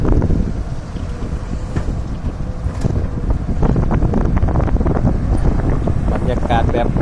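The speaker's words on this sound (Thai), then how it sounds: "ลมแรงครับ" Strong wind gusting across an outdoor drilling site where an SK 200 excavator is working, roaring and buffeting against the microphone in a loud, steady rush with scattered clunks.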